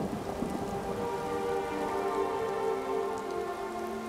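Steady rain falling on surfaces in the Skyrim video game, a dense, even patter that continues without any talk.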